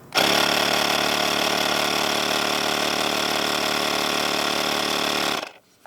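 A steady mechanical motor drones loudly and evenly for about five seconds, then cuts off abruptly: the small air compressor of a BuTure St001 jump starter running close by.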